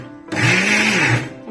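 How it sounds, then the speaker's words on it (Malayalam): Wheat flour whirring in an electric kitchen mixer grinder, one steady high motor whine that surges, holds for about a second, then drops away, close and loud with no talking. "ഇനി ഇത് മിക്സിക്കകത്തിട്ട് ഒന്ന് അടിച്ചെടുത്തോണ്ട് വരാം"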